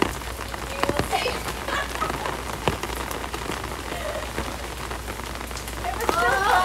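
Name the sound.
rain falling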